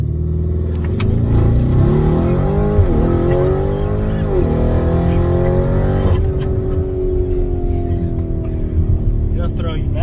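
A 2021 Lamborghini Urus launches with launch control, its engine roaring loud and close as the revs climb hard through several quick gear changes, then settle into a steady high drone.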